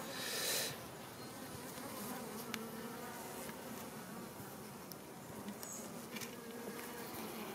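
Honeybee swarm colony buzzing at an open hive during an inspection of this year's new swarms, a steady dense drone close by, with a louder burst near the start and no talking.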